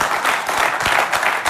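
Studio audience applause for a singer on a television music programme: a short, dense patter of many hands clapping close and steady, with no voices over it.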